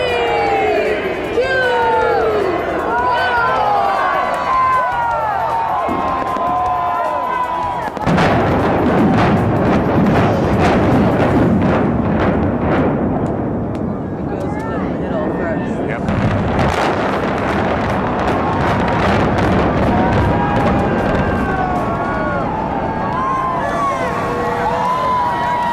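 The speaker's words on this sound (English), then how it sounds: "fireworks were set off inside the building, leading into the real explosives taking the thing down" Fireworks crackle and whistle inside the Stardust hotel, then a heavy rumble of demolition explosives brings the building down, with rapid booming bursts, distant crowd cheering and wind buffeting throughout.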